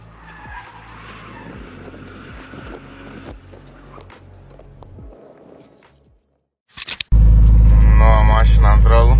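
A turbocharged BMW E46 race car at a semi-pro track event in Šiauliai sliding off the circuit with the rear axle out, a gritty rumbling skid over gravel that fades, then a burst of loud, sustained noise.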